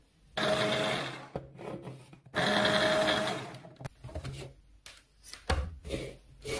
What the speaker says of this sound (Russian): Поломаю его на кусочки и измельчу в чаше с ножами.